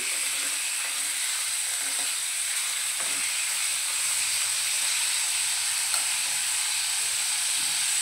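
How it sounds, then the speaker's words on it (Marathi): Chicken pieces frying in oil in a pan for a Malvani cashew chicken masala, giving a steady, soft sizzling hiss with a few faint stirring clinks, fairly quiet and without talking. "आता आपण स्वच्छ केलेलं चिकन घालून घेऊया, परतवूया। 2 मिनिटं आपल्याला तेलामध्ये परतवून घ्यायचं आहे।"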